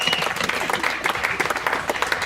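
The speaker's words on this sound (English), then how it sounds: "Let's give them a round of applause for them." An outdoor festival crowd applauds a pair of drummers and singers from the Red Cliff Band of Lake Superior Chippewa, a dense, continuous patter of many hands clapping, fairly loud and steady throughout.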